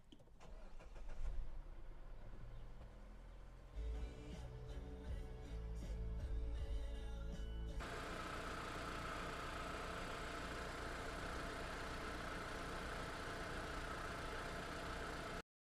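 A Mazda CX-9 engine cranks over and catches, then settles into a steady, close-up idle after an oil change.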